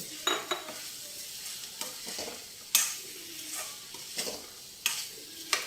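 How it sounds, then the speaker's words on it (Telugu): Mutton bones fry with ginger-garlic paste in a pan, giving a steady, faint sizzle broken by repeated scraping stirs of a utensil against the pan. "ఇప్పుడు మనం ఈ బొయ్యకలు కూర వేసేసుకుందాం."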